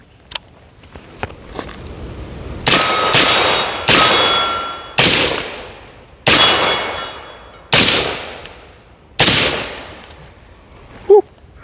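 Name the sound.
Rosco Mfg truck gun rifle firing shots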